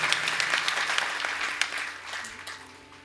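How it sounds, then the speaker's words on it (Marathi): Loud, dense applause from the audience at a Marathi kirtan, honouring mridang player Bhushan Maharaj Jadhav, a steady burst of many hands clapping that gradually tapers off, with no talk over it. "भूषणजी महाराज जाधव महाराजांकरता ये जोरदार टाळी वाजवा"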